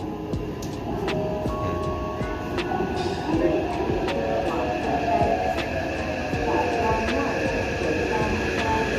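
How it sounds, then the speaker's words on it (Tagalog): A Taipei MRT subway train arrives at a station with a rising mechanical rumble, rail squeal and clicking, over station ambience and a spoken voice. "may ilaw-ilaw na yung red guys so ibig sabihin may parating na ng train so dito tayo sasakay sa parating na ito na train"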